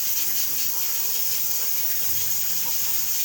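Rice for a beef Kabuli (Afghani) pulao is washed under water, a continuous steady rush of flowing, splashing water close by with no speech.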